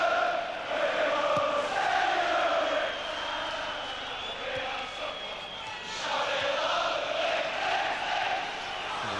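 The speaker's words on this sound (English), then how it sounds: "The Leeds crowd in full voice here" Leeds United football crowd in a 1991-92 league match singing and cheering in full voice, a dense, sustained roar of chanting that swells and dips slightly over nine seconds, with no talk over it.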